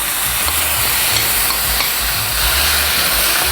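Jjajang sauce for a ramen-based mul-jjajang is stir-fried in a hot pan with a splash of water, producing a loud, dense and continuous sizzle with steamy hiss and steady stirring.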